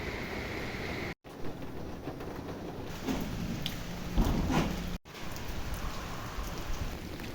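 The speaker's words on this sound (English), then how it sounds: "It is raining very heavily right now." Heavy rain pours steadily through a forest on the Annapurna trek in Nepal, a dense, continuous hiss of drops with louder bursts of spattering midway and no voices.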